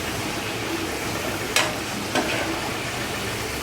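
Potato french fries fry in hot oil at home, a steady soft crackling sizzle with two brief sharp clinks of utensils stirring them partway through.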